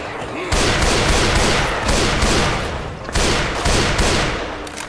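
Repeated pistol shots from the default starter handgun in the zombie shooter Left 4 Dead 2, a steady run of loud close cracks over continuous game noise, with a brief pause near the midpoint before the firing resumes.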